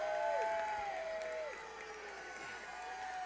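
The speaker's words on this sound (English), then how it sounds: "I think the Star City fans are just enjoying booing now." Star City fans boo at a high school football game against Crossett, a faint, distant, sustained crowd roar with wavering drawn-out vocal tones carrying across the stands.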